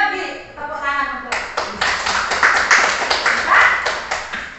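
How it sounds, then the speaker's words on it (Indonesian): Applause breaks out in a classroom during a primary-level maths lesson on geometry, a burst of children's clapping that runs steadily for several seconds after a teacher's voice. "Tepuk tangan untuk"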